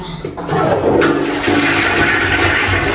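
A bathroom toilet flushes with a loud, close rush of water that starts abruptly and pours on steadily.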